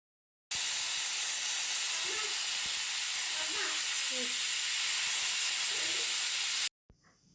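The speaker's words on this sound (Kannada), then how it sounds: "ಕುಕ್ಕರ್ ಮುಚ್ಚಿಬಿಟ್ಟು ಈಗ 2-3 ವಿಷಲನ್ನು ಹಾಕ್ಸಿದ್ರೆ ಸಾಂಬಾರು ರೆಡಿ ಆಗುತ್ತೆ" Pressure cooker steadily hissing out steam for about six seconds while cooking sambar of sprouted horse gram and raw jackfruit, a loud continuous jet that cuts off abruptly near the end.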